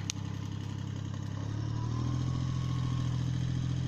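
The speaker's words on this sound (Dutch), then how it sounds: "Met de tractor." A tractor engine runs steadily and close by during work pulling out old rotten fence posts, a constant mid-pitched clattering drone that rises slightly in level partway through.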